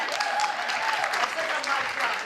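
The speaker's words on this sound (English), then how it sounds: "that gets a huge clap right there" Applause from a conference audience at a women-in-business talk, a steady broadband wash of many hands clapping at moderate distance, with voices faintly mixed in.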